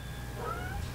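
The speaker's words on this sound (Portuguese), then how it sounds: "Essa aqui é a minha gata" A house cat lets out a single short, rising mew up close, quiet over a steady low hum, with no voices around it.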